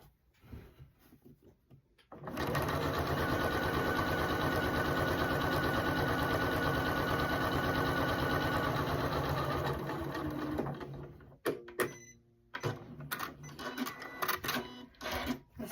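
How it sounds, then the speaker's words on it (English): A sewing machine stitches quilt squares in one steady, loud, rapid run of about nine seconds, preceded and followed by softer clicks and fabric handling nearby. "we sew 1/4 inch down both sides"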